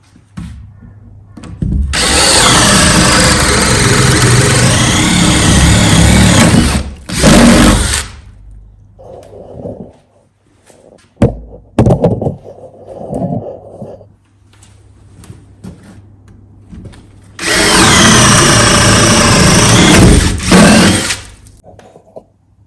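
Power drill boring holes through timber studs for a garage partition wall whines loudly in two long bursts, with quieter knocks, clunks and handling noises in between.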